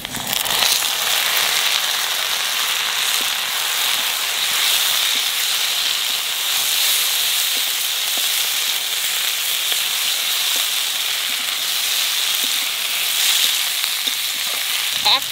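Tomatoes go into a pan of fried ginger and garlic for a potato dum curry. A loud, steady hiss and crackle of frying continues unbroken for about fifteen seconds.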